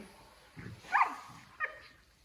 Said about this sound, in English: you can see my 2 puppies out there playing